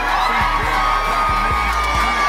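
A crowd at a DJ event cheers, whoops and shouts loudly and continuously, a dense wall of voices heard up close, with a pounding low beat beneath it.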